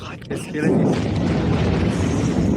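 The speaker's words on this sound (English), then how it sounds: "these are pretty significant explosions" A heavy blast from US airstrikes in Iran erupts after a brief quieter moment, followed by a sustained, rolling roar of rumbling noise.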